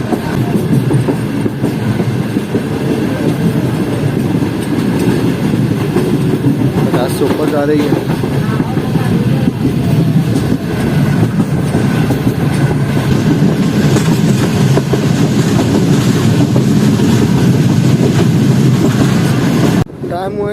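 CNR passenger coaches of the Karakoram Express running over track at speed, a steady loud rumble with rhythmic clickety-clack of wheels on rail joints throughout, while someone talks over it.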